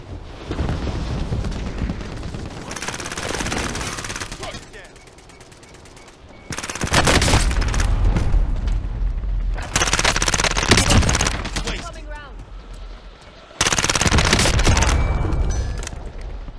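Rapid automatic gunfire from the Call of Duty: Warzone video game, loud bursts of machine-gun fire and explosive blasts in several sustained waves with brief quieter gaps between them.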